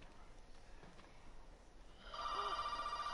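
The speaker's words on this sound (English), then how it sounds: "Yes, I'm picking up the phone." A telephone in the horror video game Resident Evil 7 starts ringing partway through, a steady electronic tone that rises out of a quiet, low ambient background.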